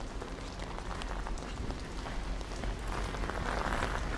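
Rain falls steadily on a downtown Toronto street along Richmond, a continuous dense patter close by with no speech.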